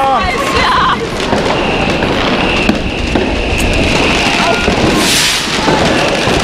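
New Year's Eve fireworks and firecrackers going off in a dense, loud barrage of cracks and bangs, with a whistling rocket streak early on and continuous crackle throughout.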